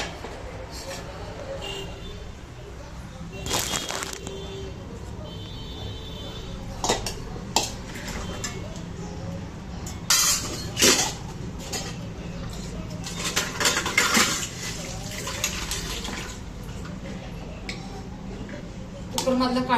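Cooked rice is scooped out of a home kitchen pot into a dish: a metal spoon clinks and scrapes against the cookware in irregular bursts over a quiet room background.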